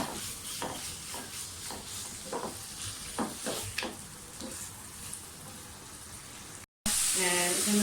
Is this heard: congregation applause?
no